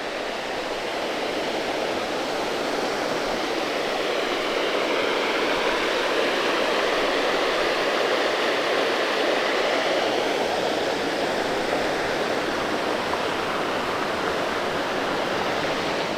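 Spring water of the Gacka River flows beside a family watermill at the Majerevo Vrelo spring, a steady broad rushing and splashing that stays even and close throughout, with no voices.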